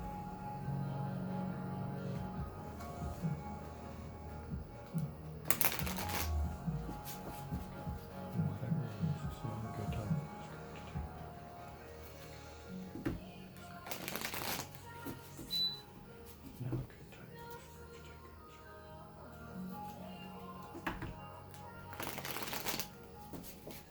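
A deck of cards shuffled for a tarot-style reading, soft riffling and sliding in repeated bursts, with a few sharper bridge-like riffles standing out against quiet room tone; close and gentle, no talking.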